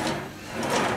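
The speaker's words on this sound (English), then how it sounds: "some drawers here," Kitchen cabinet drawers in a shared house in Leyton, London slide and knock, a short, close wooden rumble and thud with no talking.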